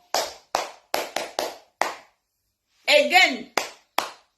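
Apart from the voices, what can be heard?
people applauding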